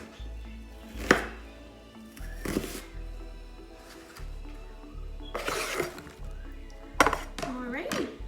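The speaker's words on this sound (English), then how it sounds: "So I just cut about half of it. And we're just gonna do big chunks." An onion being cut into big chunks on a board for albondigas soup, several sharp knife thuds and clacks spaced irregularly, close and fairly loud against quiet background.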